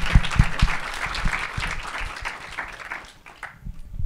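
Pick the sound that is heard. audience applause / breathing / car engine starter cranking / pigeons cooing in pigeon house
audience applause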